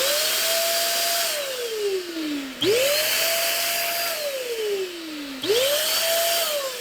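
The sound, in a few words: SIN SHINE compressed air 3.0 blower running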